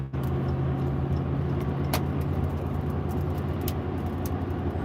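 A car cruises down a road behind a cement truck, with a steady, close engine and tyre drone that stays loud and even throughout.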